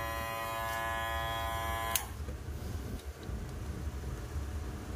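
Walux 8102C cordless hair clipper running at close range with a steady, loud electric buzz and high whine; the tone shifts abruptly partway through, then continues as a rougher hum.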